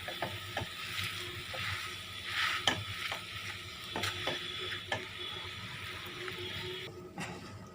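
Grated boiled potato being stirred and mixed in a pan for aloo paratha filling, with scattered scraping clicks of the spoon against the pan over a low background hiss, no talking.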